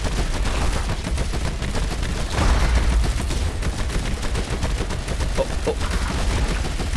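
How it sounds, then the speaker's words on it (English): Sustained rapid machine-gun fire from a space shooter video game, a dense continuous rattle of shots at steady loudness with a brief louder burst partway through, while a person exclaims briefly over it. "let me switch to my machine gun"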